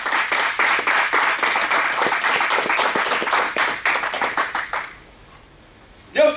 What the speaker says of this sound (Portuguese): Para dar uma salva de palmas ao Senhor.